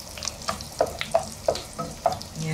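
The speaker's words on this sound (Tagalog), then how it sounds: "magigisa na tayo guys ng bawang" Garlic sautés in rendered pork oil in a pan. A bright, close sizzle runs under a steady series of utensil scrapes and taps about every half second.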